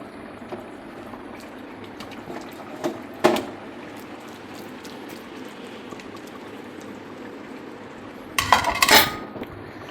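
Plates and dishes are handled while food is served in a home kitchen, with a few scattered clinks early on, then a louder burst of rattling and clattering near the end, over a quiet background hiss.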